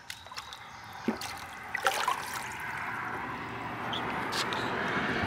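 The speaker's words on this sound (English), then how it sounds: "let's rinse this off and take a look at it and see what it looks like" Water runs and trickles over a metal bicycle quill stem part during rinsing after a lye drain-cleaner soak, starting with a few splashes and drips and building into a steady close stream.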